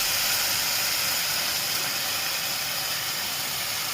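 Peanuts and chana dal sizzle in a hot pan with onions being sautéed for aloo phadphada, a steady, fairly loud frying hiss that continues unbroken throughout with no voices.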